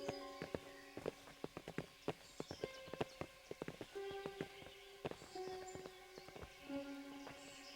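Horse hooves clip-clop in a steady walking rhythm, crisp and close, with sustained musical tones playing underneath, in Kingdom Come: Deliverance.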